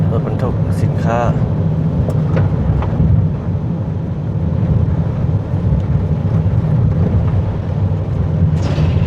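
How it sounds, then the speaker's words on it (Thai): Cargo trucks roll past on a road near Vientiane, a loud continuous low engine rumble and road roar filling the scene, with a voice talking over the traffic. "รถอันนี้มาหลายรถบรรทุกสินค้า"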